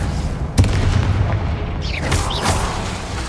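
A Confringo fire spell fired in Hogwarts Legacy booms with a sharp blast near the start, followed by crackling bursts and a whooshing flare, all under a dense, continuous layer of combat noise.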